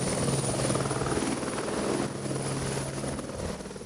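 A helicopter joins an organ-transport task force, its rotor thumping steadily and loud throughout, with a dense continuous engine roar and no voices.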